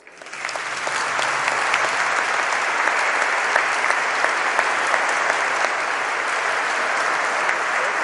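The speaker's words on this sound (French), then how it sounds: "on peut les applaudir." A congregation at a Catholic confirmation mass breaks into sustained applause that swells within the first second into a thick, even wash of clapping filling the church, with no voices heard.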